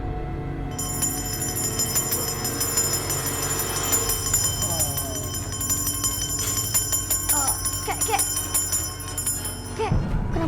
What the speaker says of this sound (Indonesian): kenapa bunyi lonceng?